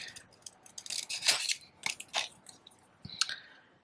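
Hand scissors snip through paper to cut out an owl shape, giving a run of quick crisp cuts and rustles at close range, with no talking.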